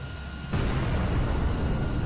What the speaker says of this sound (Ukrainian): Ще одна БМП потужний вибух